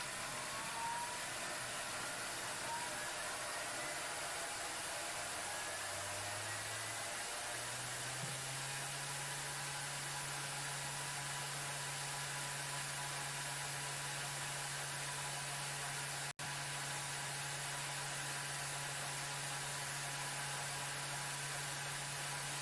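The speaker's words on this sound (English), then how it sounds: "it's going to mix on speed 10 for 30 seconds" A Thermomix spinning condensed milk at speed 10, a steady high-pitched motor whine that ramps up gradually at first, then holds a constant loud whirring drone with a brief dropout.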